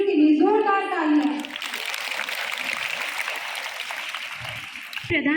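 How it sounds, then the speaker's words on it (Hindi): Sustained applause from a school audience at an investiture ceremony for the new Nivedita house leaders, a broad steady clatter of many hands lasting several seconds, with a voice speaking just before it and briefly again at the end. "एक बार निवेदिता दल की नई नेत्रियों के लिए जोरदार तालियां।"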